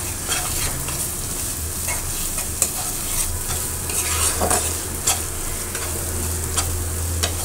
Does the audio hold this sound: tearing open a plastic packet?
no